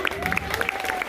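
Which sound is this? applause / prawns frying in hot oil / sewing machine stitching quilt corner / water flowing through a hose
applause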